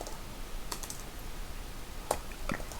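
Computer keyboard being typed on to enter a terminal command, a few sparse soft key clicks over a faint steady background hum, close and quiet.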